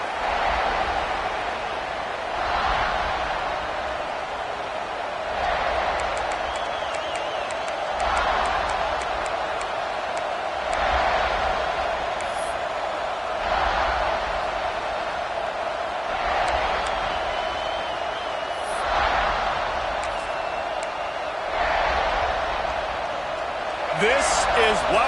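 Home football stadium crowd at South Carolina versus Miami, a steady wide roar from the stands with periodic swells every few seconds, while a commentator talks over it.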